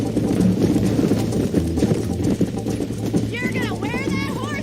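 Horse hooves clip-clop in a steady galloping rhythm during a race in the Western video game Red Dead Redemption, continuous and close under dialogue, with a brief whinny-like cry near the end.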